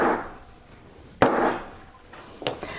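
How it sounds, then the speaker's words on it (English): Hammering a metal piece down on a studio workbench to form a dome shape: two sharp, loud metallic strikes about a second apart, each followed by a short ringing decay, with no talk. "so go ahead and hammer that down."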